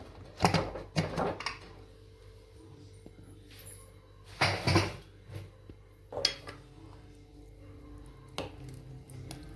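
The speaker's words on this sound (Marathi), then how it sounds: "आता आपण कुकर खोलून घेऊया" A pressure cooker being opened after cooking spicy mutton curry: several loud metallic clanks and creaks of the lid come in separate bursts, with quieter handling between them and no speech.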